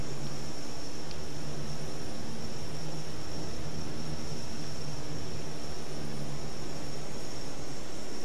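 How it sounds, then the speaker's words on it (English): A Sukhoi Superjet airliner in a flight simulator makes a steady, loud, broadband jet roar that holds unchanged throughout, with no voices. "Here comes the Sukhoi Superjet."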